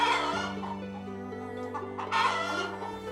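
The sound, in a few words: chicken clucking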